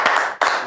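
Audience clapping at a comedy show, a brief loud burst of applause lasting under a second with a short break in the middle, close and dense.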